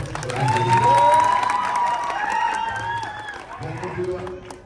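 Audience at a stage event welcoming an actress claps and cheers, the crowd noise rising and then fading while a loud voice speaks over it.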